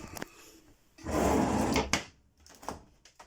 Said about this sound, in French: Le tiroir pour les couverts.